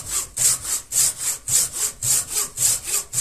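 A Darlac pruning saw with small teeth cuts through a wood branch in quick, even back-and-forth strokes, about six rasping pulls close up, with no talking.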